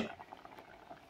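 Chicken boils in an uncovered pot for stroganoff, giving a faint, soft bubbling patter that is brief and quiet with no voices.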